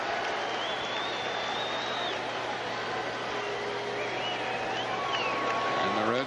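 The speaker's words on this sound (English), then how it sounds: "Crowd rooting for Bob Walk." A stadium crowd cheers and applauds in Pittsburgh during the 1990 National League Championship Series game between the Reds and Pirates, a steady, dense roar beneath a commentator's voice.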